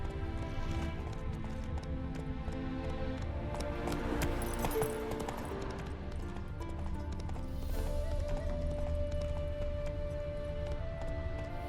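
Hooves of the ridden horse Roach in The Witcher 3, galloping in a continuous clattering rhythm under layered game music and ambience, moderately loud throughout, with no speech.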